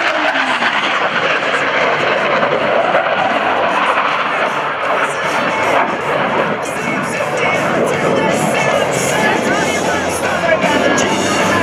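US Navy Blue Angels jets crossing over center point at an airshow in Rhode Island, a loud, steady roar of jet engines sweeping through, with a broad crowd murmur underneath for the whole stretch.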